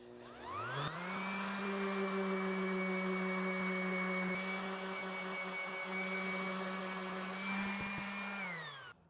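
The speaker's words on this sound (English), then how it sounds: "we're just going to take the sander here, sand that rust down" An electric sander grinds rust off a cast iron Dutch oven, spinning up to a steady loud whine with a rough gritty edge, holding for about eight seconds, then winding down.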